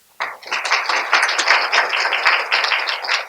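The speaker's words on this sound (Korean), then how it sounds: "환영의 박수 부탁드립니다" Audience applause welcoming graduate school professors at an admissions information session, a burst of many hands clapping close and steady after a quiet start, continuing loudly to the end.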